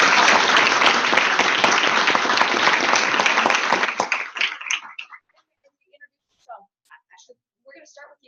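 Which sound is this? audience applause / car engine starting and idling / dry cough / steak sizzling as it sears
audience applause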